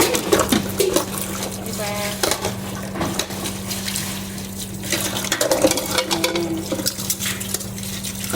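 Tap water running into a sink while dishes are washed, a steady wash of flow with clinks of plates and splashes and a constant low hum, with a voice speaking briefly over it.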